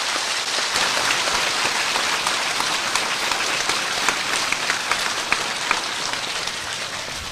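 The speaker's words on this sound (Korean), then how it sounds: "질문자를 격려하는 의미에서 다시 큰 박수 부탁드립니다." A hall audience at a Buddhist question-and-answer talk claps steadily in a dense, even wash of applause that fades slightly toward the end.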